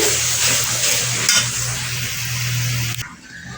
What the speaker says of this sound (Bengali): এটা মশলা কষা হচ্ছে এই যে আলু ভাজা আর এই যে মুরগির গিলা মেটে কষা হবে